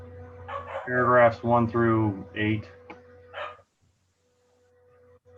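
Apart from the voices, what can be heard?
dog barking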